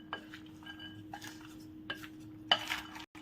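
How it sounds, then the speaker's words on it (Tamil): Tender green pepper pickle being stirred together with lemon juice, salt and turmeric: a handful of spaced spoon scrapes and clinks against a container over a faint steady hum. "மிளகு, எலுமிச்சம்பழம், உப்பு, மஞ்சள் தூள் எல்லாமே சேர்கிற மாதிரி நல்லா ஒன்றோட கலந்து விட்டுக்கலாம்"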